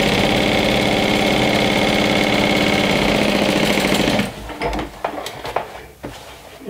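Sewing machine running steadily while stitching the lining of a fold-over clutch, a continuous close whirring hum for about four seconds that then stops, leaving faint handling clicks and rustles.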